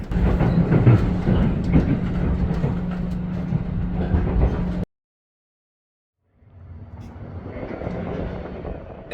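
A Shinkansen bullet train arriving at Aomori Station rumbles and rattles close by, breaking off into a sudden cut of silence before the rolling rail noise returns more faintly.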